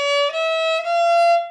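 A viola playing four notes in a row, first through fourth finger, each a sustained bowed tone stepping slightly higher, connected smoothly with brief changes between notes and no voices.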